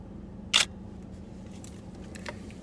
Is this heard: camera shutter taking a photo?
yes